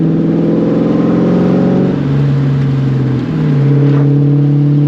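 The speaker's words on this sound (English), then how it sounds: "Rev matches definitely sound a whole lot better too, being catless." A 1999-2004 Ford Mustang with a catless X-pipe exhaust revs loudly up close, its deep exhaust note rising and falling with no voices.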